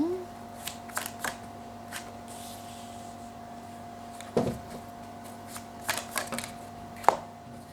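Tarot cards being shuffled and drawn at a reading, with soft riffles and several sharp flicks and slaps of cards laid down, close and intermittent over a faint steady hum.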